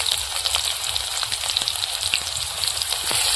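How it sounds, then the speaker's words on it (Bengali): Chopped onion sizzles and crackles steadily in hot oil in a wok, a close, continuous frying hiss with scattered pops. "পেঁয়াজটা একটু হালকা করে ভেজে নেবো"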